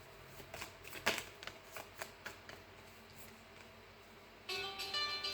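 Tarot cards being shuffled by hand, a series of quick riffling bursts and soft flicks at an uneven rhythm, close and fairly quiet, ending in a denser run of shuffling.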